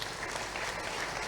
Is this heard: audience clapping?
yes